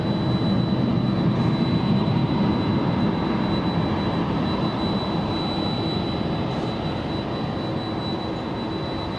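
A Southwest jet airliner takes off at LAX, a steady, loud broadband roar that holds at a constant level throughout, with no voices.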